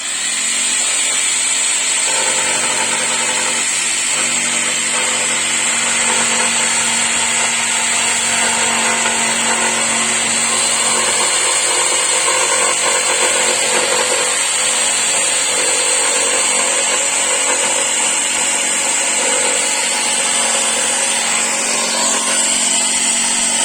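A power saw cuts through a wooden board in one continuous, loud, close-up run, a steady buzzing whine with a grinding edge that lasts throughout.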